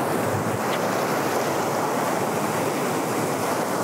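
Strong wind and surf on a beach during redfish fishing, a loud, unbroken roar of gusts and breaking waves filling the whole stretch, with no voices.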